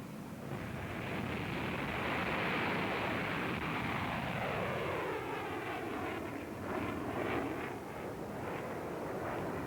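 An airplane engine roars during launch from an extremely short runway. A dense, sustained roar swells and shifts in pitch as the aircraft moves off, with no voices.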